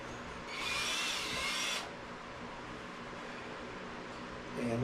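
A power drill whirs steadily for about a second and a half against quiet background noise, then stops.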